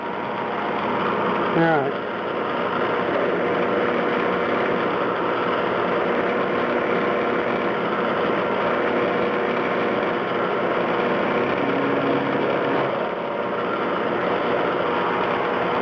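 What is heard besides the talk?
CNC machine running while machining a muzzle brake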